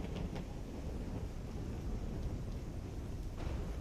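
A thunderstorm in the video game Call of Duty: Black Ops 3 gives a dense, steady roar of rain and low rumbling that fills the whole stretch, with faint sharper cracks near the start and end.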